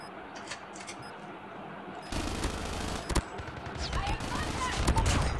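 Gunfire in the mobile shooter Call of Duty Mobile, night mode: bursts of rapid automatic fire and scattered shots over a busy game soundscape, growing louder and denser in the second half.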